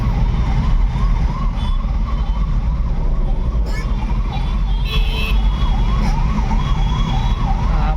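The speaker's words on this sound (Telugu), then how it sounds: "అంబులెన్స్ వస్తున్నట్టు వెనకాల." An ambulance siren wails in a repeating up-and-down cycle behind a truck on the road, heard over a loud, continuous engine and road rumble.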